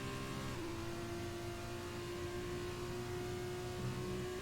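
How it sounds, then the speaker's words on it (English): An F2 race car at Silverstone in the F1 video game sits at high engine revs, then the whine drops sharply as the driver lifts off the throttle and holds a lower steady tone. "And you can hear there just the massive lift compared to some F1 cars where you can't just floor it there."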